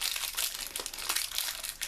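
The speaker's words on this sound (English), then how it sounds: "This is how it comes in a little plastic bag." Small plastic bag crinkling and rustling up close as a Turbo RDA vape atomizer is unpacked, a steady run of dense crackles lasting about two seconds with no voices.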